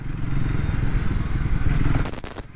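A Triumph Speed 400 motorcycle engine rumbles steadily and close by while riding, ending in a brief burst of clattering, scraping noise.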